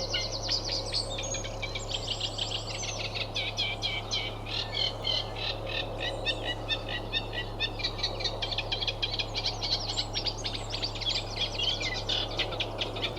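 A reed warbler singing in a reedbed, a rapid, continuous run of chattering, scratchy notes close by over a low steady hum.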